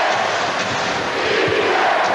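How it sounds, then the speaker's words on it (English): Capacity crowd at a Portland basketball arena during a 2001 NBA playoff game, Lakers at Blazers, a loud sustained roar of chanting voices filling the whole moment with steady dense noise. "And a defense from this capacity crowd here in Portland"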